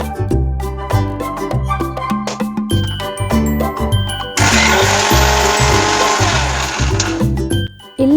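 Mixer grinder whirs through a masala for North Karnataka style brinjal curry, a loud steady grinding burst of about three seconds that starts suddenly and cuts off, heard over background music.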